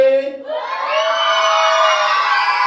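A group of children at a children's camp in Laxmapur, Medak, shouting and cheering together in a loud, sustained chorus that swells after a brief opening call and holds steady to the end.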